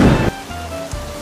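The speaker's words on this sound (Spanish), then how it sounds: "Está lloviendo" Steady rain pours down in a broad, loud hiss that drops suddenly to a softer patter, with one brief swell of downpour near the end.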